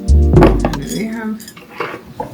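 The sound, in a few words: serving bowls being handled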